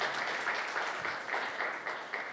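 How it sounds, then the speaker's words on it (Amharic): A crowd applauds to welcome artist Azeb Worku, dense, continuous clapping at a moderate distance that holds steady throughout. "ጭብጨባና ሞቅታ"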